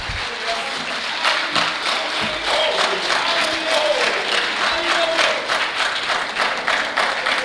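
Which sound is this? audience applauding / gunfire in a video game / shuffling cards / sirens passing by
audience applauding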